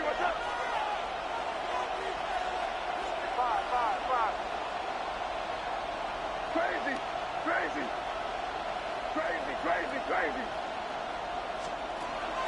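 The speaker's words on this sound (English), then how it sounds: "the crowd getting into it as we come up on a big third down" Stadium crowd in the American football video game Madden 26 during a big third down, a constant loud roar of cheering with scattered whistles and shouts rising over it, steady from start to end.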